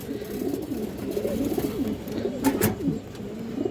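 Domestic pigeons kept for sale coo repeatedly in soft, rolling low phrases, close by, with a couple of brief sharper rustles or flutters partway through.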